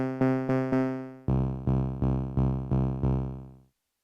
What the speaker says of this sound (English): now you can use that kick drum sample in your wavetable and it sounds like this